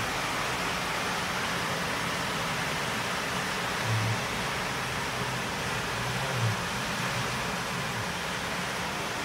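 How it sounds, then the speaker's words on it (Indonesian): Heavy first rain pours steadily on a house with a badly installed, leaking roof gutter, a dense, even hiss of water filling the whole stretch with no voices. "ini hujan pertama kak di sini, tapi kayaknya talang airnya ada bocoran itu kak."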